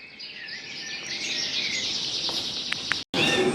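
Native finches and other cage birds chirp and twitter in a busy indoor bird room at a Loughshore Cage Bird Society visit, a steady chorus of high calls that breaks off for a moment before resuming.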